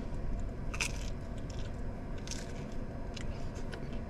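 Biting and chewing a thick pizza with fresh jalapenos and spicy honey, giving a few soft crunchy bites over a steady low background hum.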